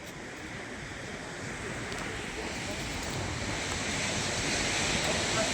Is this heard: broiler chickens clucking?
no